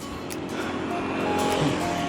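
Cars pass by at Huai Chorakhe reservoir as a steady, broad traffic rumble that swells slightly toward the end, with no clear gaps between vehicles.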